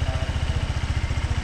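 A freshly rebuilt Honda PCX scooter engine idles smoothly nearby, a steady low rhythmic putter with even pulses throughout and no other sounds over it.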